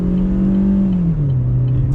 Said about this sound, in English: You definitely hear that engine roaring